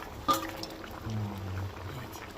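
Pieces of bata fish are dropped into a simmering, thin curry broth with vegetable stalks, a quick splash followed by soft bubbling and faint sizzling in a quiet kitchen.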